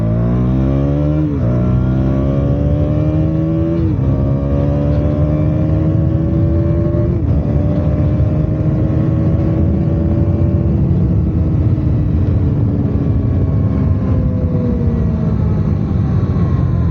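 A KTM Duke 200 motorcycle engine revving hard while riding, loud and close, climbing through several gears with brief dips at each shift before pulling steadily, over constant wind rush.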